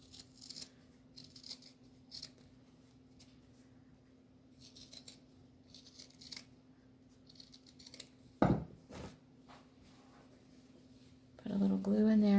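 Scissors snipping through two layers of fabric at once to make leaf shapes, a scattering of soft, close crisp snips spread across the stretch, with a sharp clack near the end and a brief hum of a voice.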